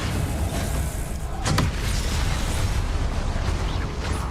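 Expelliarmus disarming spell cast in Hogwarts Legacy, a sharp whooshing burst midway through over a constant rumbling battle din of booms and mechanical noise.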